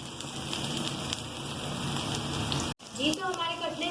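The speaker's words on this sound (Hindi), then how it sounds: "अब हम अपने कटलेट्स को फ्राई करना शुरू करेंगे।" Potato cutlets (aloo tikki) fry in oil on a griddle with a steady, close crackling sizzle, broken by a brief gap before the hissing resumes with bubbling pops.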